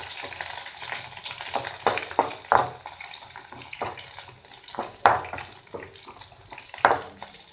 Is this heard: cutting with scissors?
no